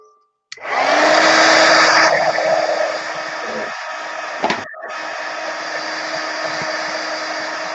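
A heat embossing tool drying paint on a mixed media art piece gives a loud, steady whirring blow that starts abruptly, dips briefly near the end, then resumes at a slightly lower level.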